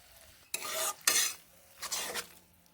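Spinach with mung dal is stir-fried in a pan, with three bursts of loud, close scraping and rasping as the spatula pushes the greens around, separated by near-quiet pauses.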